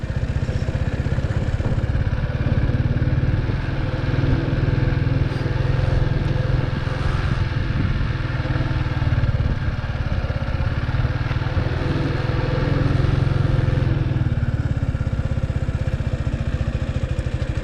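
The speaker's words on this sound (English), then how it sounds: "every time I let go of the clutch, the rev sounds change to a bit more, I would say, muffled sound" A motorcycle engine rumbles steadily up close as the bike eases away in first gear with the clutch let out and no throttle. The low throbbing drone barely changes, with a faint mechanical clatter over it.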